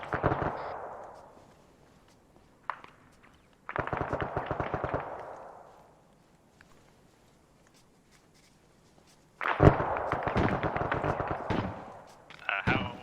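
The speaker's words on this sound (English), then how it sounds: "I'm hearing shots northwest" Bursts of automatic gunfire in a military simulation video game crackle in rapid strings with sharp rattling reports, separated by quiet pauses, sounding at moderate distance.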